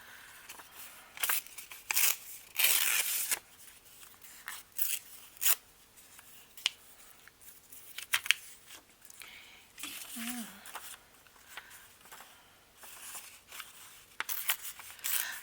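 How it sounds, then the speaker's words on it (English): Paper is torn by hand for a scrapbook cluster book: short, crisp ripping bursts come in irregular clusters, with quiet pauses and faint handling noises between them. "I enjoy tearing that paper."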